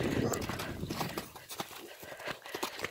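A horse canters through snow with soft, rhythmic hoofbeats muffled underfoot, close by, while a rider speaks over the gait.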